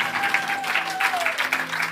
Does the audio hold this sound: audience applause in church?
yes